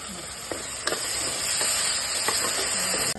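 Yogurt stirred into frying onion, mint and ginger garlic paste for Ambur chicken biryani, giving a steady loud sizzle and hiss with faint scrapes of the spoon at a regular pace.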